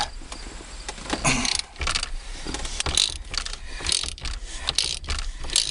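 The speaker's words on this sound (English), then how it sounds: "So without the extension, it would be hard to ratchet in there, or the wrench." Ratchet turning a 21 mm socket on an extension while replacing the turn signal switch on a 1990 Cherokee steering column, giving a steady run of close, dry clicking with no talk.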